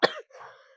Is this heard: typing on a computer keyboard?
no